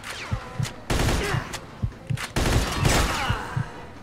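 Gunfire in the Mafia 2 video game cracks out in repeated bursts and single shots, loud and close, with brief gaps between volleys.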